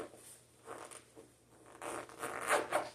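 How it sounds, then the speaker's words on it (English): A medical kit pouch being zipped shut while packing camping gear, a few quick close-up zipper strokes with soft rustling and no talk. "zip up my med kit."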